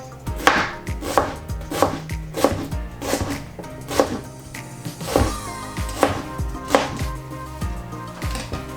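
Knife slicing a cabbage thinly on a cutting board for pepper slaw, a steady series of crisp, close chops landing roughly every half second with no talking.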